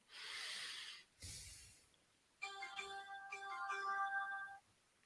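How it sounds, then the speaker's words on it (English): A mobile phone ringtone going off during a live in-game sports broadcast: a bright electronic melody of tonal beeps, fairly faint, preceded by breathy hissing noises. "What was that? That's my phone."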